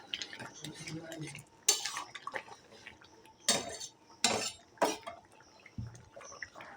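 Shukto curry being mixed in a pot: several loud metallic spoon clanks and scrapes against the vessel, spaced irregularly, with wet stirring sounds and quieter liquid slosh between them.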